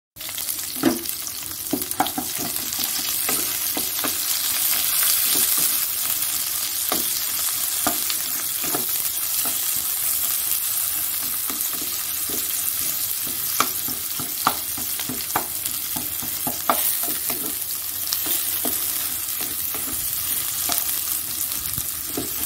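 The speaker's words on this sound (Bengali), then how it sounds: "এখানে কালো জিরে দিয়ে দিয়েছি আর পেঁয়াজটা দিয়ে দিলাম।" Onions and black cumin seeds fry in a pan with a constant sizzle. Repeated clicks of stirring against the metal sound at an irregular rhythm, up close, with no voices.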